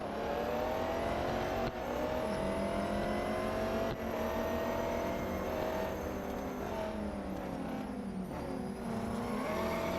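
Race car engine in the Real Racing 3 mobile game during an eight-car, two-lap race on the national circuit, a loud continuous whine that rises and falls with gear changes throughout, with no talking.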